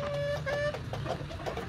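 Chickens, including heavy full-grown hens, clucking close by in a short burst, with a sharp high cluck or squawk standing out over a steady low murmur of the flock.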